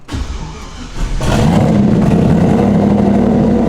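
A turbocharged LS-powered Foxbody on a dyno: after a rough idle, the engine surges into a loud, sustained high-rpm roar that holds steady at full throttle.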